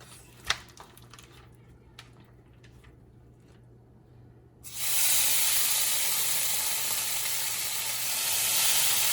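Bacon for shrimp tacos hits a hot pan about halfway through, bursting into a loud, steady, broadband sizzle after a few quiet kitchen clicks and a sharp knock near the start.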